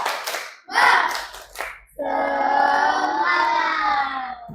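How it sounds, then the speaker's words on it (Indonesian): A school class performs the 'tepuk semangat' rhythmic clapping chant: a few bursts of patterned hand claps, then children's voices chanting loudly together in unison. "Tepuk semangat."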